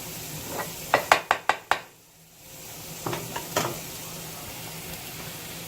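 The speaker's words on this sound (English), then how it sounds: "now I'm going to start adding the meat" Beef for Pad Thai goes into a hot pan with a quick series of sharp clanks and knocks, followed by a softer sizzle. A few more metallic taps sound close by, with no voices.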